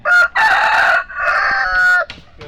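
A rooster crows loudly and close by, a long drawn-out cock-a-doodle-doo followed by a second call and a few short clucks.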